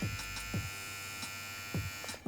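A cheap $25 Target electric hair trimmer running, a steady close buzzing hum with a slow motor, broken by a few handling clicks and bumps.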